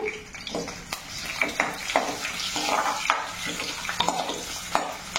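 Cumin seeds, dried red chillies and garlic fry in hot oil for a Telugu mint chutney, giving a close, steady sizzle broken by repeated spoon stirring and clinks against the pan.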